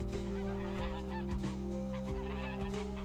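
Guard geese at a police station in northwest China honk loudly and continuously, several birds calling in overlapping, repeated nasal blasts close by with no voices.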